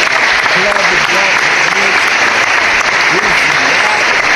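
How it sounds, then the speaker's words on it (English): Applause on a Knicks fan podcast, a loud, dense, unbroken wash of clapping, with a voice speaking over it throughout. "Clap it up, clap it up."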